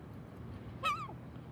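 A single short, nasal honking quack from a duck eating walnuts, fairly close, over a low steady outdoor background.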